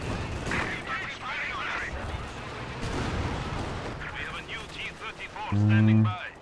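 Artillery barrage in a World War II strategy game, booming impacts and gunfire layered under continuous commentary, with a loud burst near the end.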